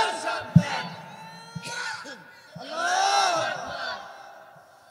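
A crowd at a Bangla-language religious gathering shouting takbir in unison, with an opening call and a thump, then rising massed voices swelling to a loud collective roar before fading, moderately distant.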